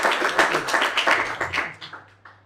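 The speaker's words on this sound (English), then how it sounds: "Please give him a very warm round of applause for Robert." Audience applause at a data management conference talk, a burst of many hands clapping that tapers off over a couple of seconds.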